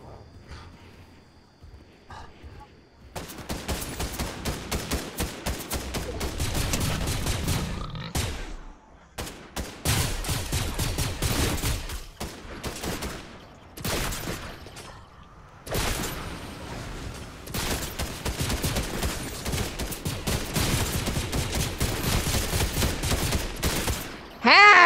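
Rapid bursts of gunfire from a Fortnite battle royale match, dense and loud with repeated volleys and a few short pauses, running nearly nonstop after a quiet start.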